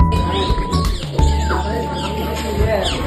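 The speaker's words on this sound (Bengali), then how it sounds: "এখানে পাখিগুলো এত সুন্দর আর কিচির মিচির করে ডাকছিল" Small birds chirp and twitter in quick, overlapping calls at a bird-watching spot on a study tour, fairly close and lively, with a steady tone and some background voices underneath.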